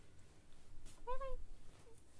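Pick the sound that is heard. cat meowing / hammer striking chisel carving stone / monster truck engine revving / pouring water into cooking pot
cat meowing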